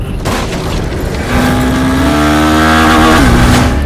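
A Honda Hornet 200R motorcycle engine revs up loud and close, its tone climbing steadily after a rough start and holding a strong, rising whine toward the end.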